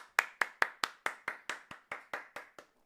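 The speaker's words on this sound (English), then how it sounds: "let's get a motherfucking round of applause." A dozen crisp hand claps land in an even, quick rhythm, close and clear against silence, each sharp smack fading before the next.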